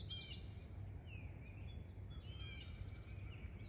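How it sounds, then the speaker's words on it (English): Birds chirping and singing outdoors, faint and fairly distant, a few scattered high calls over a steady low background rumble with no talking. "we can listen right now to the birds."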